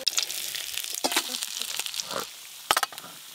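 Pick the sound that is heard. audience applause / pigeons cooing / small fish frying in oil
small fish frying in oil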